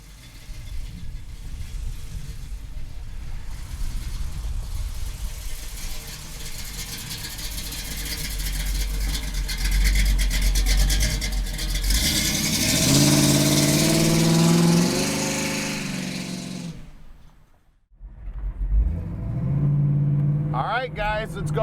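A 1967 Pontiac Firebird's engine runs close by, climbing into a louder rev before cutting off briefly and starting up again, with someone talking over much of it.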